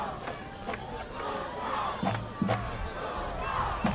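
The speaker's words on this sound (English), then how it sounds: "the Bulldogs firing up their crowd" Football crowd at a 1999 high school championship game stirred up by the Bulldogs, a broad roar of voices with shouts rising over it and a few dull thumps, steady and moderately loud throughout.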